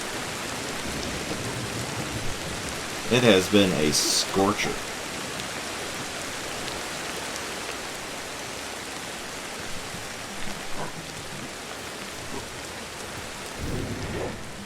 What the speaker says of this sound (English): It's raining in game.